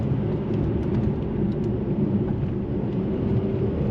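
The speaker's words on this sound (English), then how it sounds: "There's a downshift." Mercedes C43 AMG coupe being driven, a low steady engine and road rumble from inside the cabin, with the engine note shifting slightly as it downshifts.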